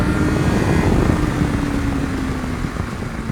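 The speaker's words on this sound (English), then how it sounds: "Like the bike revs forever." A Yamaha FZ6 motorcycle engine revs in second gear on a twisty road, a sustained whining drone with a tone that slowly falls, loud and close amid wind noise.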